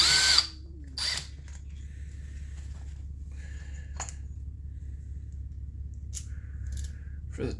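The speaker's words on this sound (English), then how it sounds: "I'm just going to run my screws back into the holes they come out of." A power drill drives screws back into their holes during a Husqvarna 350 chainsaw teardown. Short whirring bursts are followed by a steady low drone, all close and moderately loud with no talk.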